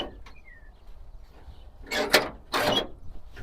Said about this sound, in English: Let's see if this door will open.